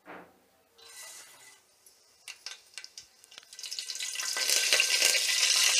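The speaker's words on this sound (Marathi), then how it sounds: "आता फोडणीसाठी आपण मोहरी टाकून घ्यायची आहे" Mustard seeds tempering in hot oil in a cooking pot for Malvani dal: faint scattered pops at first, then a sizzle that swells into a louder, sustained crackling near the end.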